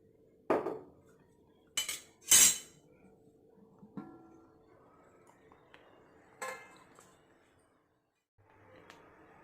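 A chicken biryani pot is opened and checked: a few sharp metallic clanks and clinks of lid and spoon against the vessel, separated by quiet pauses, close and fairly loud.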